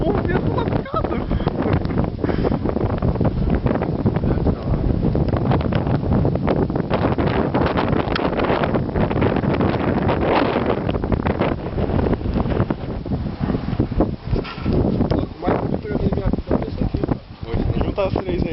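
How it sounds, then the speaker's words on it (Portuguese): Strong wind in snowy weather buffets the microphone in a loud, steady roar with gusty surges, while people talk in Portuguese underneath. "o vento lascado"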